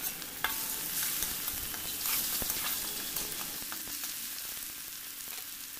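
Semiya and suji upma stirred in a hot pan, a dense continuous scraping and sizzling close to the listener with occasional sharper spoon taps.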